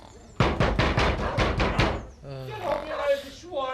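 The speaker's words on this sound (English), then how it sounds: "I spent half the morning banging on that door." Seven rapid, heavy knocks on a door, loud and close, followed by a muffled voice calling out.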